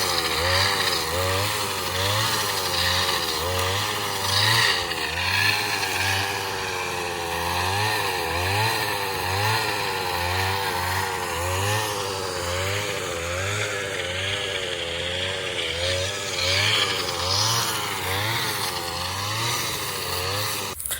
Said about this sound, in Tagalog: Palibhasa is try na rin niyang gamitin yung grass cutter.